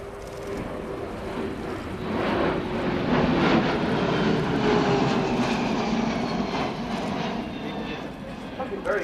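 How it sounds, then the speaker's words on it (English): A Kawasaki P-1 maritime patrol aircraft with IHI turbofan engines makes a flypast at an air display, its steady jet roar building then slowly fading across nine seconds, loud and continuous with wind rumble. "Another flypast now from the P-1,"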